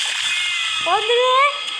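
A video game cat meows once in a rising, drawn-out call over a steady electronic hum, clear and close.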